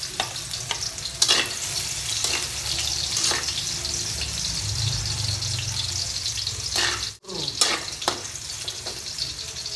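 Garlic frying in olive oil at the start of a stir fry of celery, kangkong and okra, a steady broadband sizzle that runs throughout with brief clatters of stirring and a short break near the end.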